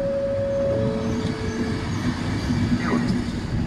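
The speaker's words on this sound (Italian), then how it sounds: "Treno in arrivo al binario 9." A Trenord double-deck train hauled by an E464 locomotive rumbles into Milano Greco station, steady low rolling noise with faint squeals and tones, busy and close throughout.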